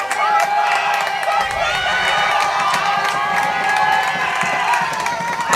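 Crowd at a home varsity high school football game between Earlham and ACGC cheers and shouts steadily, loud and sustained throughout with some whoops near the goal line.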